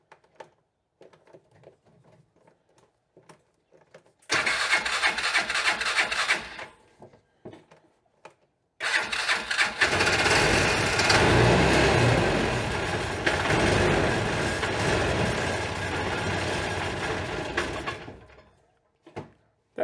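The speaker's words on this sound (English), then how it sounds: "There's the engine." A Polaris 500 Ranger side-by-side engine running rough, loud and close, in two long sustained bursts with a brief gap, the second lasting nearly ten seconds before cutting out.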